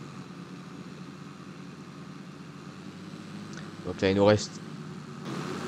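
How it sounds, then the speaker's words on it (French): Tractor engine in Farming Simulator 22 rumbling at a low steady idle, with a brief revving surge midway, under someone talking. "Je sais pas ce que vous en pensez du bruit, mais il est vraiment monstrueux ce tracteur-là."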